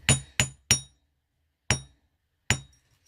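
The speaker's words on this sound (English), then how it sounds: "So you hammer this," Hammer strikes on a wire heart pendant lying on a table: five sharp metallic taps, three in quick succession then two spaced farther apart, each ringing briefly before silence.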